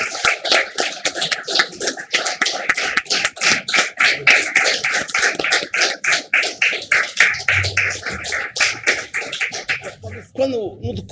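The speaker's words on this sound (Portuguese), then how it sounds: "uma grande salva de palmas para ele" An audience gives a long round of applause for Mr. Graça at a book presentation, dense rhythmic clapping, loud and close, that runs for about ten seconds before thinning out.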